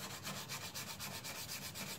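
Coarse sandpaper rubs paint off a leaking motorcycle fuel tank in steady, rhythmic back-and-forth scraping strokes, close and continuous.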